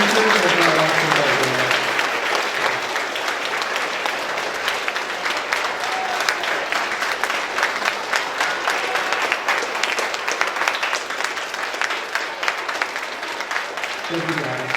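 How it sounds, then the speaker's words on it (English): An audience at an 8th grade promotion ceremony stands and claps in a sustained, dense round of applause that stays loud and steady throughout, with a few voices mixed in. "give them a round of applause anyway"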